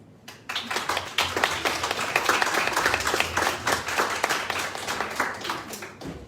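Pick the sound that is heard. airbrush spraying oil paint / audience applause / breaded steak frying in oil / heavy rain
audience applause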